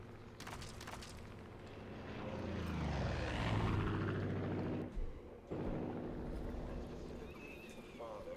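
A helicopter in the Far Cry 5 video game flies in, its engine and rotor drone swelling from moderate to loud over several seconds. It holds steady, with brief dips near the end, amid other game sounds.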